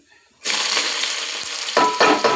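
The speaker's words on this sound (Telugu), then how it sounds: "ఇవి కొంచెం వేగుతున్నప్పుడు మా పచ్చిమిర్చి చూడండి రౌండ్ కట్ చేసుకున్నా" Onions and round-cut green chillies frying in a pan, a steady close sizzle that starts abruptly and continues with a few louder bursts as the ingredients are stirred.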